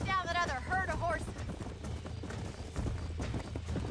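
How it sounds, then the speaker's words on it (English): Hooves clip-clop in a steady galloping rhythm as horses run in the video game Red Dead Redemption, heard under game music and other sound effects. "Let's see if we can track down that other herd of horses."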